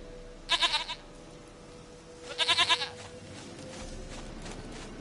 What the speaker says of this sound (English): sweetest goat.